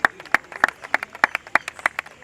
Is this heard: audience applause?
yes